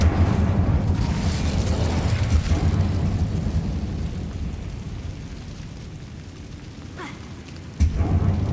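A fire spell cast in the Hogwarts Legacy video game erupts into a loud, sustained rumbling burst that slowly fades, with a second sharp whoosh near the end.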